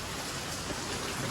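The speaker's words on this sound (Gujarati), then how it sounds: "તમે જોવા કેવો કેવો વરસાદ છે" Heavy night rain pours down in a steady, dense hiss with no break, close and even, and no voices.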